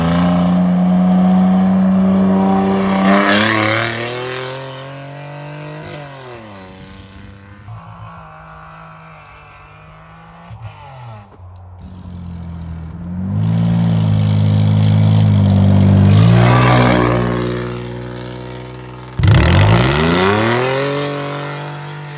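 BMW 528i E39 engine drones loudly while driving over a bumpy road, the pitch rising and falling with several throttle swells, including a sharp surge near the end.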